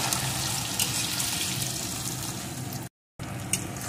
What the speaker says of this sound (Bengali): এখন পেঁয়াজ কুচিটা খুব সুন্দর করে লাল লাল করে ভেজে নেব